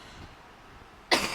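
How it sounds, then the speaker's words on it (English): A single sharp cough from a person suffering from bronchitis bursts out near the end, loud and close, after a stretch of quiet room tone. "I apologize if I have to cough"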